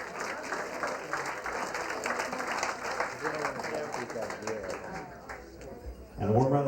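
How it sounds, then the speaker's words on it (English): Guests at a wedding reception at L'Auberge Del Mar in San Diego applaud with a moderate, continuous patter while a voice speaks over the clapping, with music rising at the end. "a nice round of applause for Laura Carvelli on the arm of Aaron Gerwitz"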